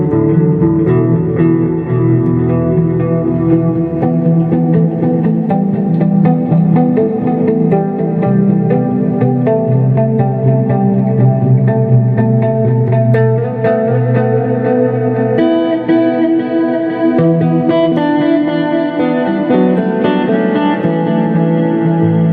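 A guitar runs through an effects pedal with its reverb switched on, giving steady, sustained chords and notes with a wide, washy tail. It plays continuously at a fairly loud level with no talking.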